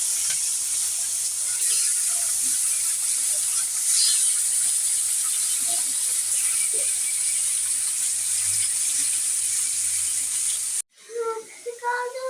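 Rohu fish pieces frying in a pan give a steady, dense sizzle and hiss that runs unbroken for about eleven seconds before cutting off, with faint kitchen clinks under it.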